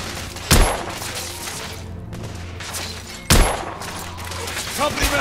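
Video game gunfire in The Order: 1886, with two sharp, loud shots standing out over a steady background of battle noise and faint voices.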